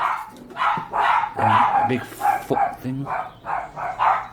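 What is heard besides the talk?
dogs barking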